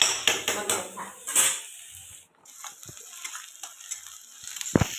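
Garlic, onion and chili frying in a pan for Manchurian, a steady sizzle broken by clinks of a utensil against the pan, with a short pause midway and a louder knock near the end.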